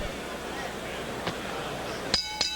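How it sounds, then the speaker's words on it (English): A boxing ring bell ends round six of a pro bout, two sharp metallic clangs near the end over a steady crowd roar and commentary. "And there's the bell to end round 6."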